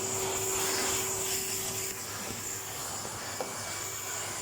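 A vacuum cleaner running over a Persian silk carpet, a steady close whooshing drone with a high whine that dips slightly partway through, continuous and without talk.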